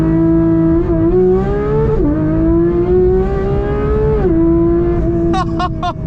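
A Porsche 992 GT3 sits at launch control, its flat-six held at high revs with a loud, steady howl that rises and dips in pitch, then surges before a sharp chirping burst near the end.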